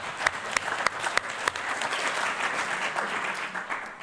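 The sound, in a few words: audience applause at community meeting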